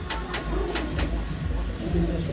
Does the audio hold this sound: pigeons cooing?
yes